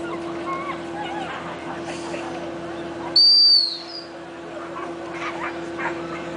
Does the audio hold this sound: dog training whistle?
yes